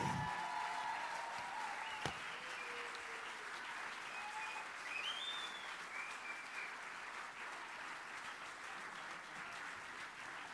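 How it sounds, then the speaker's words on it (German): Audience applause after a line of performers is introduced, a broad steady clapping that starts strong with a sharp thump and a brief whistle, then continues evenly and gradually thins. "euren Applaus!"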